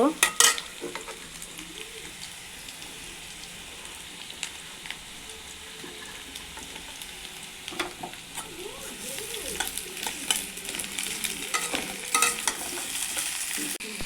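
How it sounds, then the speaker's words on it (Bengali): Onions fry in a pan with steady close sizzling and repeated scraping stirs, the crackle growing busier and louder toward the end. "এবারে পেঁয়াজটা ভাজা করে নেব।"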